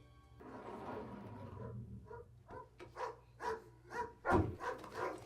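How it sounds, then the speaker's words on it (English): Dogs bark in a series of rising, rhythmic yaps from a scene in the film Knives Out, growing louder toward the end with one sharp close bark, over a low background hum. "they bark at him"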